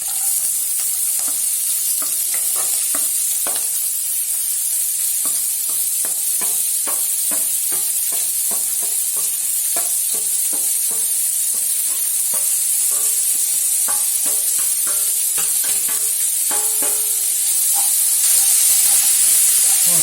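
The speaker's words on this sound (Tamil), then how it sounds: "பச்சை மிளகா போடும்போது கொஞ்சம் உப்பு போட்டுக்கோங்க சீக்கிரம் வதங்கும் அப்புறம் வெங்காயம் போடுறோம்" Green chillies and onion sauté in a hot pan with salt, giving a steady loud sizzle and hiss throughout, broken by frequent scraping clicks of a spoon stirring against the metal.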